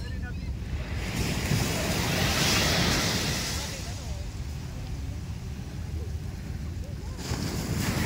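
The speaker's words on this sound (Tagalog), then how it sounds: "Ang dagat, grabe." Ocean waves rolling in at Lamer Beach, a continuous loud surf wash mixed with wind buffeting the microphone, with voices faintly present in the background.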